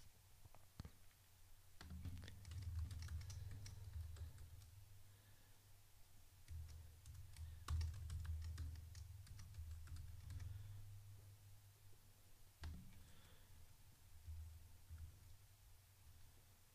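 Keys clatter on a computer keyboard as a password is typed in, a steady run of quick, close clicks with short pauses, alone over a low room hum.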